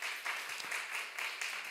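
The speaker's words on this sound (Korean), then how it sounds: "우리 박수 한번 우리 해주시죠" A church congregation at a Sunday service claps for a member, a soft, fairly distant ripple of applause with gentle pulses, heard from a little way off in the sanctuary.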